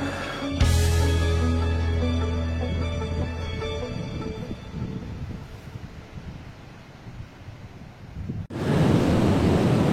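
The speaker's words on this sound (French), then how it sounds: "Il y a un vent à faire décorner les cocus." Strong outdoor wind buffeting a microphone on a hike, a loud, continuous roaring rumble that eases slightly, cuts briefly, then returns in a harsh gust near the end.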